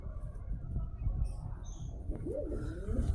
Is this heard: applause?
no